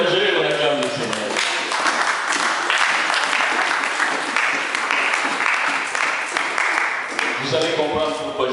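A church congregation applauds loudly and steadily to acclaim the Lord, with the dense clapping filling the room. Voices and cheers mix in, and someone speaks near the start and end.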